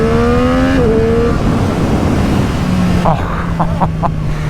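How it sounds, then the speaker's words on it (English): A 2024 Triumph Street Triple R motorcycle engine revs up to a high, steady note, then drops to a lower idle, with a few short throttle blips near the end. It sounds loud and close, and no one talks over it. "This would probably be one of my all-time favorite engine noises, engine sounds."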